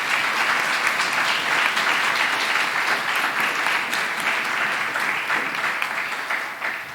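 A church congregation claps steadily through a sermon, dense sustained applause filling the room at full loudness, tapering only slightly near the end.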